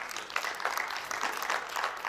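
An audience at an Internet Society Nigeria chapter relaunch gives a short burst of applause for a returning association member, a close, busy patter of clapping that carries steadily through the moment.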